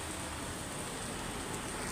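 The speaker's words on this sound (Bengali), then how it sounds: "এই যে বৃষ্টি পড়তেছে" Rain falls on a street beside a mosque, a faint, even, continuous hiss of drops with no talking.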